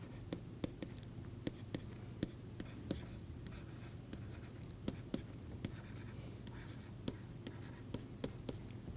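Chalk or marker writing on a board during a fluid mechanics lecture, a series of sharp, evenly spaced taps and strokes over a low room hum, fairly faint and distant.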